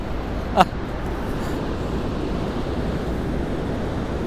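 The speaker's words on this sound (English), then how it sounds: "It feels like rainfall, but it's just the water from the falls." Steady broadband roar of rushing water at Niagara Falls in winter fills the whole clip, with one brief sharp knock near the start.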